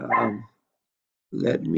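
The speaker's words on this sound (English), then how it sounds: "My dog started barking here" A dog barks indoors during a home-recorded anatomy lecture: two loud, close barks separated by a short silence.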